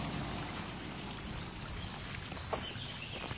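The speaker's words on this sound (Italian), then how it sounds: "C'è un bel ruscello lì sotto" A stream flowing below a picnic area at Passo della Scoglina, a faint, continuous broadband wash of water heard from a distance with occasional small splashes.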